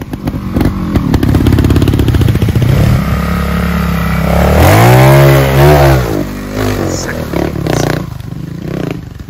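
A trials motorcycle engine revs hard and close, rising and falling in loud sweeping bursts with rattling mechanical clatter, while a voice briefly speaks underneath.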